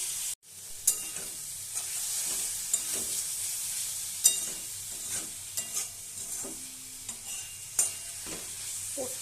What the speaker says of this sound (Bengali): ভালো করে এটাকে আমি ফ্রাই করব।